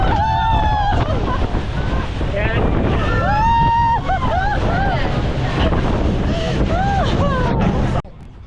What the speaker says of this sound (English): Shade on the boat, wind rushing past.